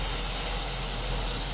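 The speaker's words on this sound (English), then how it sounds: "So if I spray the other side, hopefully it will come back as I spray" Steady, close hiss of aerosol spray paint misting continuously over a 1/48 scale Academy F-4B Phantom model kit, with no pauses and no voices.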